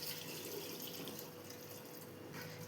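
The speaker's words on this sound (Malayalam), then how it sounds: "ഇതിന് മുകളിൽ നിൽക്കുന്ന അത്രയും വെള്ളം ഒഴിച്ചു കൊടുക്കാം" Water is poured over soaked white peas with turmeric for a curry, a faint steady trickle with no voices.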